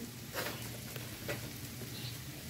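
Hilsa fish roe with bottle gourd peel being stirred as it fries in a pan, giving a continuous close sizzle with a few scraping stirs of the spoon against the pan.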